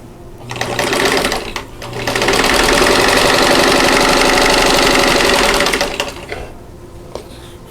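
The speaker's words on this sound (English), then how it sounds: "right sides together and sew 1/4 inch away from the drawn line that's drawn on the diagonal of the" A sewing machine chain pieces quilt block squares with rapid, steady stitching, running in a short burst, pausing, then running continuously for several seconds before stopping with faint handling sounds.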